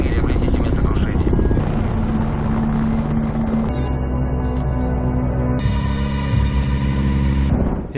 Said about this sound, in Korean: 헬기는 라리사를 발견하는데